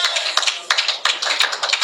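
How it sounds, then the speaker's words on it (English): A crowd applauds a presidential candidate at a Nigerian political event, dense rapid clapping with sharp individual claps standing out, loud and continuous throughout. "another round of applause for our presidential candidate"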